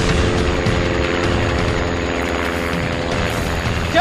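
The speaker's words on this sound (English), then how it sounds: "I start realizing it's an airplane." Spotter airplane flying over the Amazon jungle, its engine a continuous loud drone that holds steady throughout with no voices.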